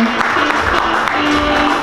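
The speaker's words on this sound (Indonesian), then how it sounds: "Tepuk tangan dulu dong." A small press-conference crowd claps for invited podcast guests, a short burst of steady applause at close range with a faint voice murmuring underneath.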